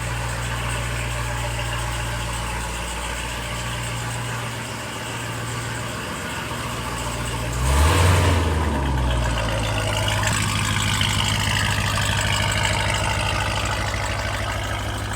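A Trackhawk's engine idles with a deep, steady rumble, swelling briefly in a short rev midway before settling back to an even idle, close and alone.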